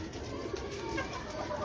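Breeder pigeons on a rooftop in Lahore coo softly and steadily under a constant outdoor hum, the low calls blending into the background with no clear breaks across the short stretch.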